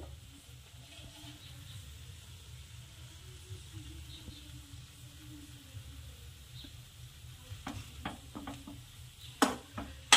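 Rava upma with sambar masala is stirred in a pan, with a faint, steady scraping and soft sizzle close by, and a few sharper clinks near the end.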